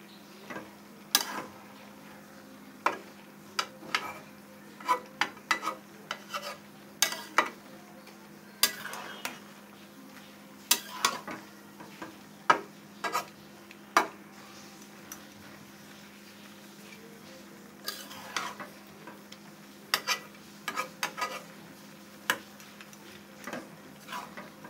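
A vegetable curry with ground small shrimp being turned in a pan, with repeated sharp ticks and clinks of a spatula against the pan over a quiet low hum, close and irregular with no voices.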